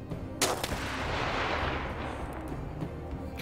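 Gunfire in the video game This War of Mine: a sharp close shot, then a rolling burst of echoing reports and rumble, with a few fainter shots trailing after.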